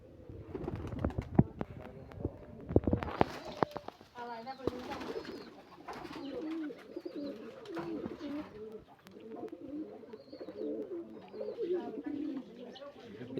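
Giribaz fancy pigeons coo in low rolling murmurs, with scattered knocks and rustles early on, while people talk nearby at moderate volume.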